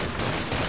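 A massive rocket-equipped gun in the Saints Row 4 video game fires in loud, rapid bursts, with two dense volleys close together and no speech.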